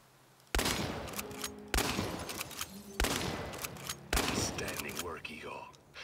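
Shotgun firing in the video game Chernobylite: four loud, evenly spaced blasts, each followed by a short decaying tail, with game sounds and a voice speaking near the end.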